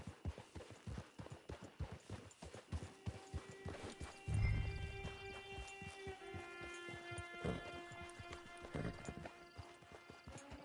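Horse hooves clip-clop steadily in Red Dead Redemption 2, a quick, even rhythm of close hoofbeats running the whole time, with an occasional whinny and other game sounds layered over them.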